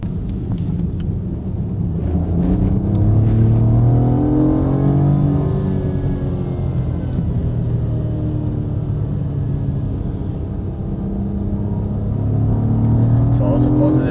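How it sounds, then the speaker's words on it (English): From inside the cabin, a BMW prototype three-cylinder engine accelerates, a loud steady rumble with tones that rise and fall through the run. People talk over it throughout. "when you accelerate, the engine is getting louder."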